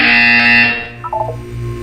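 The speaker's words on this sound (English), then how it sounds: "You will hear a buzzer." A loud electronic buzzer from the video game Portal 2 drones for under a second, then fades into a few short, quieter beeping blips.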